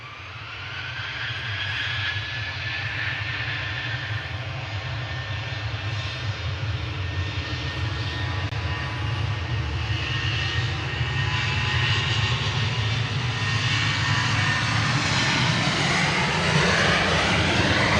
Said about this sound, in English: We had EasyJet A321 coming from Lisbon